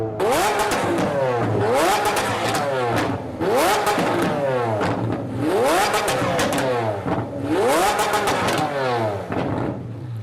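A Liberty Walk Lamborghini Aventador's engine revs hard in repeated bursts, each rising sharply then dropping, loud and close, with crackling pops between revs.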